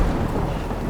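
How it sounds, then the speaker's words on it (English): Heavy rain and rumbling thunder in the video game Death Stranding form a loud, dense low roar that fills the whole brief moment with no voices over it. "Oh, it's the rain."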